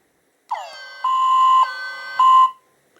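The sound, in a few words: toy alarm siren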